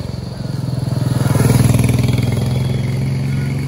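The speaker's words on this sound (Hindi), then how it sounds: "यहाँ पे बाइक फोर्थ गियर पे थी और 50 के आसपास ही जो थी मेरी स्पीड रही थी।" Royal Enfield Meteor 350 motorcycle riding in fourth gear at around 50 on hill roads, a loud steady thumping single-cylinder engine note that swells slightly then holds even.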